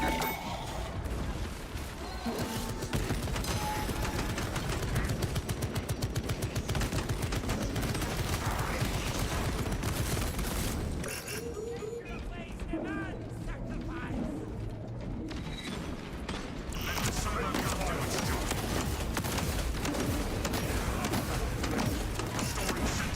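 Sentry turrets in Space Marine 2 keep up dense rapid gunfire through a chaotic battle, loud and continuous with crashes mixed in and a short lull near the middle.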